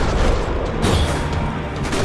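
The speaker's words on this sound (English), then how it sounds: "Another parking lot rattling with gunfire." Gunfire in a parking lot shootout in the video game Max Payne 3, dense overlapping booms and shots close and loud over a rumbling game backdrop.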